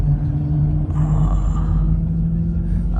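Inside China's fastest high-speed train, rated at 413 km/h, as it starts and runs: a steady low rumble with a constant humming drone, close and even throughout.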